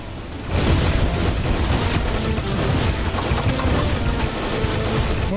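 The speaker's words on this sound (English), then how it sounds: "Damn it, missiles." Missiles fired in the Terraria Calamity video game: a dense, steady barrage of booming blasts and rapid gunfire-like bursts, loud and continuous across the whole stretch, with no talking.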